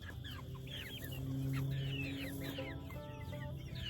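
Chickens cluck and chirp repeatedly close by at a backyard garden coop fenced with poultry netting, several birds overlapping in a steady, busy chatter.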